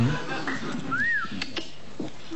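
A brief rising-and-falling whistle sounds once, short and clear, amid faint background talk and noise.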